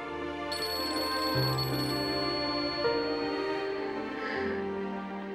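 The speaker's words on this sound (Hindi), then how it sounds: "किसका फोन?" A phone ringing with a melodic electronic ringtone, a steady sequence of tonal notes playing continuously and clearly without any talk over it.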